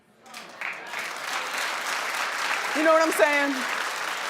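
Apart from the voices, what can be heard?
studio audience applause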